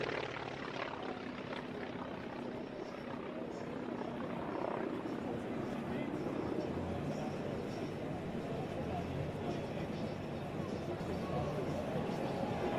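Aircraft with a Wright Cyclone R1820-89B 9-cylinder radial engine flying at an air show at Tinker AFB, a continuous droning engine roar at moderate distance, with an announcer speaking over it.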